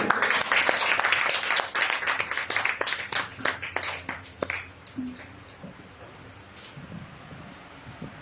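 Church congregation breaks into dense, loud applause that swells at first and then gradually thins out and fades over several seconds.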